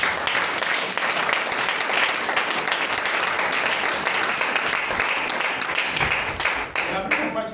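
A church congregation breaks into loud, sustained applause, dense continuous clapping filling the room from start to finish and thinning slightly at the very end.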